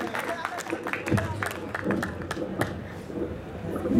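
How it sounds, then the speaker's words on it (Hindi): Audience applause at a Hindi poetry gathering (kavi sammelan), dense steady clapping from a crowd with murmured voices mixed in, continuing throughout. "जोरदार ताली बजाइए"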